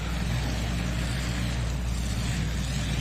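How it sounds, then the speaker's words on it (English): A pulling tractor powered by three Ford Hemi engines roars at a tractor pulling championship, a loud, steady, dense engine drone that holds without a break. "It is a tough running tractor. So 3 Ford Hemis on this tractor here tonight."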